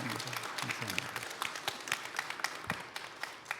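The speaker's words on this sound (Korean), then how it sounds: "다시 한번 뜨거운 박수" A church congregation claps during a Sunday worship service, a quiet, fairly sparse patter of individual claps heard from a distance that thins out toward the end.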